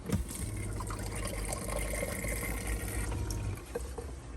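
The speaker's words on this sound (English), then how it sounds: "Now we're using a SureFlow 30 psi pump and it seems to be working absolutely perfectly." Water runs from a tap in a Land Rover camper van, fed by a SureFlow 30 psi pump, a steady faint splashing flow with a low hum beneath it that stops near the end.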